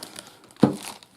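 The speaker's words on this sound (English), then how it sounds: "It's in a plastic bag." A single close, sharp crinkle of a plastic bag as a boxed Okuma Avenger Baitfeeder ABF-55b spinning reel is unpacked, brief and alone with faint handling noise around it.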